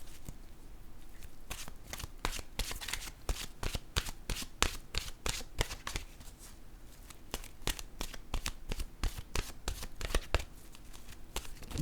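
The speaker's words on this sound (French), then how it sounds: "Je vais piger une carte de mon oracle de l'âme intuitive." An oracle card deck is shuffled by hand, giving a long run of quick, crisp card flicks and riffles in an uneven rhythm, close and fairly quiet with no talking.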